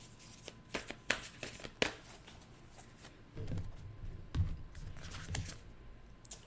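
Tarot cards being shuffled and drawn, with soft riffling bursts and sharp card flicks and slaps, close and fairly quiet, and no talking.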